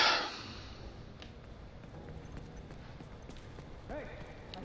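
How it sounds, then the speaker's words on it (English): Horse hooves clip-clop in The Last of Us: Left Behind video game, faint and somewhat distant under game ambience, with players talking over the sound. "I hear the fucking horse behind you"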